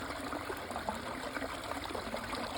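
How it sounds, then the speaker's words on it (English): A woodland brook babbles and trickles steadily over stones, a soft continuous stream of running water close by with no voices. "Love the sound of running water."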